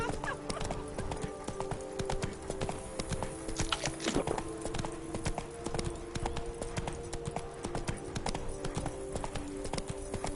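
Roach, the horse in The Witcher 3, clip-clops in a steady walking rhythm of hoof beats at close range, with faint talk and game ambience underneath and a brief neigh-like burst partway through.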